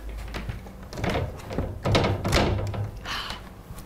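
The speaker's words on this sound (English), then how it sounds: "Can we note how loud Jess rattled the door handle and I had to pretend that I couldn't hear it" A door handle rattles in a few quick metallic jiggles and knocks, then the door thunks open, close and fairly loud in an indoor studio.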